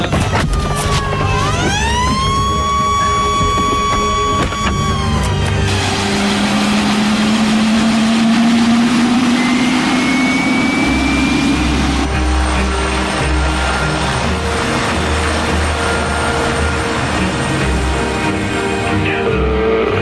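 Jet aircraft engine during an immediate alert takeoff: a loud, sustained roar with a whining tone that sweeps upward as the engine spools up, layered with steady engine noise and no speech.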